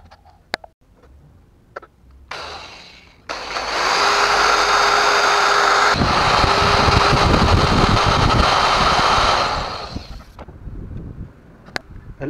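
A power drill bores a hole into a broken stud, giving a loud, steady whirring whine that runs for about seven seconds between quieter handling noises, with no voices.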